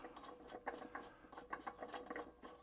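Ratchet tightening the flywheel nut on a Briggs and Stratton E Series lawnmower engine, rapid close pawl clicks in short repeated bursts, quiet and alone.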